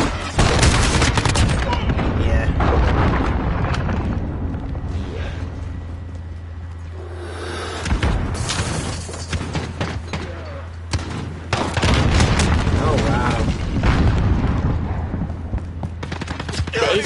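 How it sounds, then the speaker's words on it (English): Cruise missile strike explosions in Call of Duty Modern Warfare: heavy blasts and bursts of gunfire pound repeatedly for the whole stretch, with brief lulls between loud impacts. "Allied cruise missile away."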